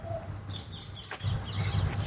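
Sparrows chirp in short, bright bursts while eating rice at a Shiva temple, over a steady low rumble, the chirps growing busier toward the end.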